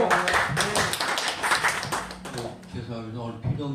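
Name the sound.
congregation clapping in welcome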